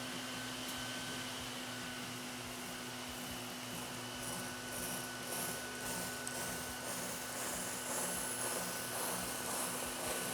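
A steam cleaner's vacuum extraction runs over a mattress with a continuous loud motor drone and steady hum, with occasional shifting hiss from suction over the surface.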